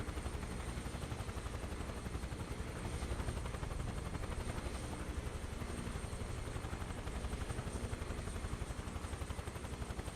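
A helicopter flies in Microsoft Flight Simulator 2024 on PS5 Pro, with a continuous rapid rotor chop over a dense engine drone that stays steady and moderately quiet throughout with no pauses.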